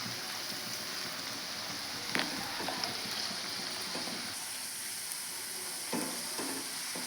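Homemade KFC-style potato french fries fry in hot oil, a steady soft sizzle running throughout with a few brief clatters of stirring or handling, moderately near.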